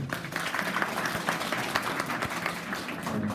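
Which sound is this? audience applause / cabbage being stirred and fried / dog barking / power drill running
audience applause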